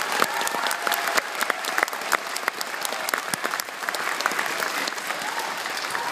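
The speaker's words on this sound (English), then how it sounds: "So let's give a round of applause to all those folks that helped." An audience at a school Christmas concert applauds steadily. The crowded, crackling clapping holds at an even level throughout, with no break and no talking.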